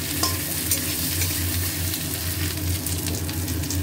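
Potatoes and onions frying together in a pan make a steady, close sizzle with stirring throughout, and no one speaks.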